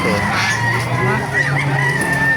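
A rooster crows at a busy outdoor chicken market in Baliuag, Bulacan, with voices chattering and a steady background din.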